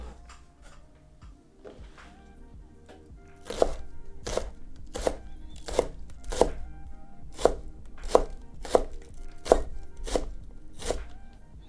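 A kitchen knife chops shallots on a cutting board in a home cooking session: a run of about twelve sharp, evenly spaced, close and loud chops, preceded by a few lighter taps.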